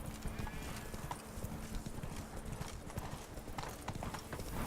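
A horse gallops along in The Witcher 3 with steady, close clip-clop hoofbeats, weighed down by an armoured rider and metal barding, and a brief whinny can be heard.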